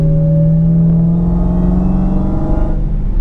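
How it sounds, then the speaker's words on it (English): A Dodge Challenger Hellcat V8 fitted with a tuned Demon engine revs up under a gentle part-throttle input, its steady rumbling drone rising smoothly in pitch. The sound is close and loud, with nobody talking. "even at part throttle, I'm going to ease into the throttle."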